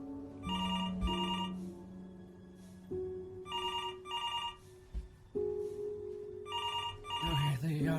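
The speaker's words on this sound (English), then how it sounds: "Answer the phone." A telephone rings in the video game Before Your Eyes, three paired bursts of bright electronic trilling repeating at a steady pace over low game music, with a voice briefly at the end.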